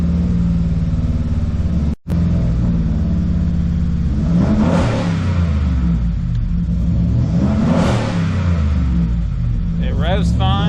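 A truck engine, suspected faulty sensor and unable to idle, rumbles close up and revs twice, rising and falling in pitch, with a brief dropout early on and a voice at the end.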